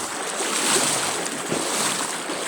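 Fast-flowing water current across a sandy stretch where sandals sink, a steady broadband rush with wind-like hiss, continuous and close throughout.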